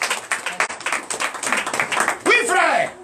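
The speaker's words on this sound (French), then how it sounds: "Donnez l'acclamation à Jésus." Congregation clapping in acclamation at a Benin church testimony service, a dense burst of many hands under ongoing speech, with a voice rising near the end.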